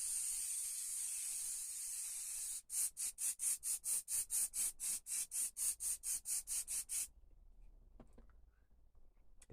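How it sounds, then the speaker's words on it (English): Krylon Fix setting spray from an aerosol can, released in about eighteen quick rhythmic bursts after a steady hiss, each puff close and crisp, with no talking. "I always spray it with the Krylon Fix paint spray"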